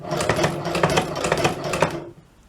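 A cobbler's sewing machine runs steadily for about two seconds, its rapid mechanical clatter and thumping stitch rhythm close and loud, then stops abruptly.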